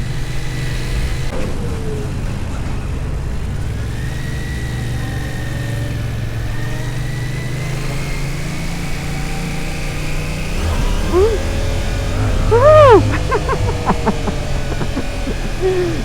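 Yamaha R7 sportbike engine accelerating, a steady near drone whose pitch climbs slowly, then several sharp revs rising and falling through the gears toward the end, louder at the peak.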